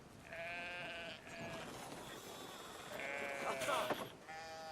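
Several sheep bleat in drawn-out, wavering cries in the video game Brothers: A Tale of Two Sons, some overlapping, with a faint background murmur and bright clattering near the end.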